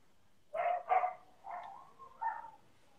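Pet dogs give a few short barks and yips, two quick ones then two softer ones, moderately close in a quiet room.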